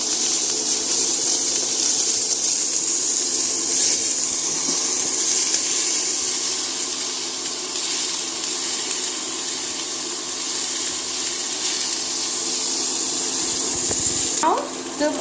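Onions sizzling in a hot pan after golden garlic, a continuous even hiss of frying that holds steady the whole time, with a faint clatter near the end.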